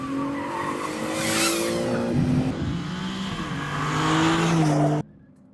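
BMW M4 CS at speed on a race track, engine note rising and falling through gear changes with tire squeal in the corners, loud and close, then cutting off abruptly near the end.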